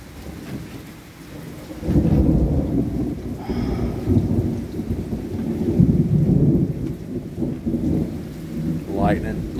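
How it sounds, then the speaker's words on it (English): Steady rain pours down in Georgia while low thunder rumbles, rising after a quieter start and carrying on heavily to the end. "Lightning, a little bit of lightning and thunder. If it's gonna rain, let it rain."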